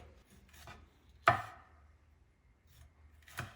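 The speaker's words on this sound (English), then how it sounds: "Grab your knife, cut down one side." A knife cuts down the side of a pan of cornbread in a home kitchen, giving a few soft scraping cuts with one sharper, louder stroke in the middle, quiet and close.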